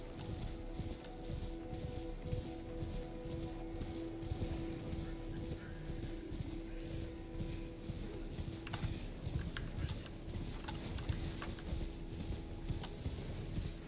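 A horse gallops in the video game Elden Ring, with rapid hoofbeats pounding steadily throughout, mixed with wind and water ambience in a soundscape near Windmill Village.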